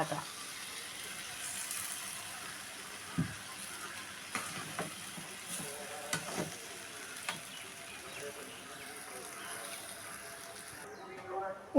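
Okra with coriander powder frying in a pan for a Kerala theeyal curry, a soft continuous sizzle broken by a few sharp spatula knocks and scrapes, moderately close, with faint background voices.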